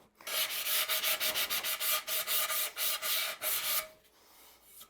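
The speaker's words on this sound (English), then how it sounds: "I just like to use a little diamond hand pad and just soften up the edges a little bit." A small diamond hand pad rubs along the edges of freshly grinder-cut tile, making a steady, rhythmic run of gritty scraping strokes up close for about four seconds before stopping.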